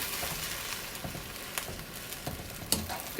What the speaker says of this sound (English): Gonna add your broccoli.